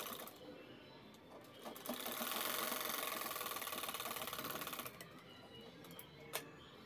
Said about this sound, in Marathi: त्या शिलाईवरून दुसरी शिलाई घेतोय आपण दुसरा पीस ठेवून